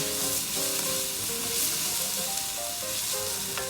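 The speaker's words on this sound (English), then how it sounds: "You can smell the fennel seed toasting, the aroma of garlic as it mixes in." Fennel seeds and garlic sizzle steadily in a hot pan, a close, even crackle of toasting with faint stirring and no talk.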